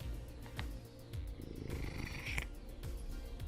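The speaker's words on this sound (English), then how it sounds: "Boy, that was a big purr." Close, low rumbling purr from a cat resting near the microphone, steady and continuous for a few seconds with soft broadband rustle over it.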